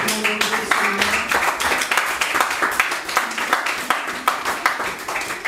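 A church congregation applauds at a Sunday service, with dense, steady clapping that carries on for several seconds, close and fairly loud.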